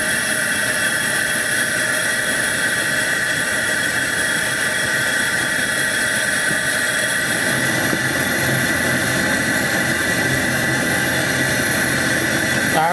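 A Coleman Powerhouse dual fuel 414 white gas camp stove running at full flame gives a steady, loud roaring hiss that holds unbroken for the whole stretch, with no talking over it.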